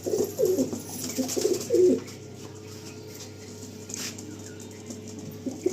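Andhra high flying pigeons cooing in a loft, a few soft low throaty coos in the first two seconds, then a quiet hum with faint stirring sounds.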